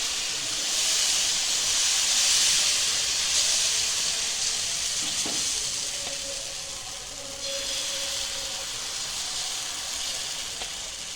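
Rava uttapam batter sizzling on a hot pan, a steady hissing crackle that stays loud and close throughout with no voices.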